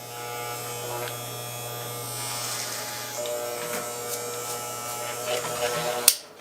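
A hair clipper set to a number 3 guard buzzes steadily up close while trimming a beard during a fade, with a constant electric hum and small flutters as it cuts, ending in a sharp click.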